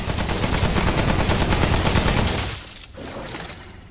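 Submachine gun fire in the video game Remnant: From the Ashes, a rapid sustained burst of shots for about two and a half seconds, then fading to quieter echoes.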